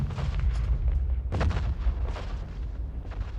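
A First World War artillery barrage, a continuous heavy rumble of distant guns with a sharper, louder blast about midway, deep booms rolling one into the next without any voices.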